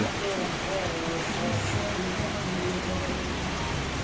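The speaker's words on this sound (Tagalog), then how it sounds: "Umulan guys." Steady rain falls in a continuous, even wash of patter that holds at moderate loudness throughout, with no distinct drops standing out and no clear voices over it.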